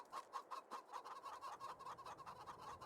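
Chickens cluck inside a coop in Farming Simulator 22, a quick run of short, rhythmic clucks repeating steadily, faint and close, with no talking over them.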